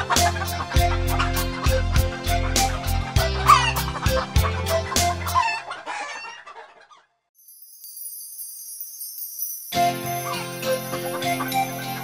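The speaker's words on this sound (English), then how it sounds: "9, 10, cluck, cluck, cluck. 9, 10, a big fat hen." Hen clucking and rooster-like crowing over a bouncy musical backing, a short break of near silence midway, then music and clucks resume.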